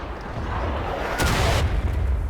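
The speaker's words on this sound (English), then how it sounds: "artillery almost hit me" Artillery shell bursting nearby on a War of Rights battlefield, a single loud boom around the middle that rises out of a steady roar of battle noise and then fades.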